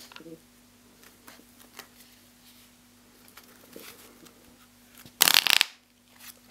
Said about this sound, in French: Je coupe mon jeu.